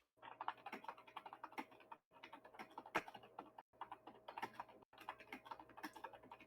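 Rapid typing on a computer keyboard, dense clattering keystrokes in continuous bursts with a few short pauses, close and fairly quiet, no voices.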